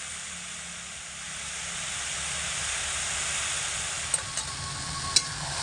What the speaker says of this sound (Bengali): নাড়াচাড়া করে কিন্তু ভাজাটা তৈরি করে নিতে হবে